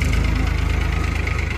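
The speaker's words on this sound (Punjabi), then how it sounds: "ਆਹ ਵੀ ਸੁਪਰ ਸੀਡਰ ਆ ਗਿਆ।" A 55-horsepower tractor runs with a super seeder attached at the PAU Kisan Mela farm fair in Ludhiana, 2024: a loud, close diesel idle with a steady, rapid pulsing throb and some faint voices in the background.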